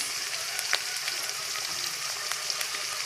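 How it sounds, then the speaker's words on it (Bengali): Cumin paste with ginger paste fries in hot oil in a pan, a steady close sizzle with faint crackles and occasional stirring scrapes, no voices. "এখন এটাকে আমি ভালো করে ভেজে নেওয়া"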